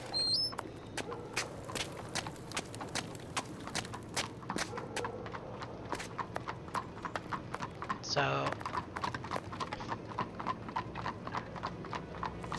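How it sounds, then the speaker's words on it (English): Horse hooves clip-clop steadily on a street in the Sherlock Holmes vs Jack the Ripper video game, a fairly faint rhythmic series of hoofbeats, briefly overlapped by a short spoken word and a passing tone. "I'm hearing a horse."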